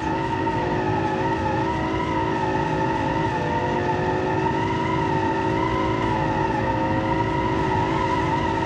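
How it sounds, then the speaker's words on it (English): A V12 engine in a muscle car body drones steadily while drifting around a track, its sustained high-revving tone holding close and loud with layered harmonics and tyre noise throughout, no voices. "8 minutes of non-stop drifting around the track"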